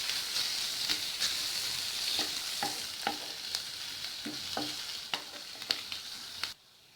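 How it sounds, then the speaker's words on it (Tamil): Grated ginger and garlic sautéing in a pan under a steady sizzle, with sharp spoon scrapes and taps recurring through it until the sound cuts off abruptly near the end. "இது கூடவே துருவன இஞ்சி, துருவன பூண்டு, இது ரெண்டையும் சேர்த்து பச்சை வாசனை போகிற அளவுக்கு வதக்கிக்கலாம்"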